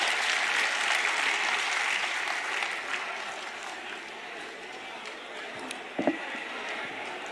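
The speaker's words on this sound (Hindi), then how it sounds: "तालियों से स्वागत करो उदय भान जी" A rally crowd applauds to welcome Uday Bhan, the state party president, at a Panchayati Raj rights rally in Tohana, Fatehabad, with a broad wave of clapping that fades over several seconds before a couple of sharp knocks.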